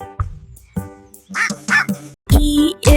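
A duck quacks several times in quick, loud, close bursts, a few short honks followed by longer nasal calls.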